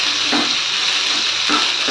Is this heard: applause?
no